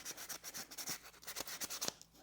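Sandpaper rubbed over stamped numbers on a car part from a 1968 GTX 440, a steady rhythm of quick back-and-forth scraping strokes, close and fairly loud, with no voices.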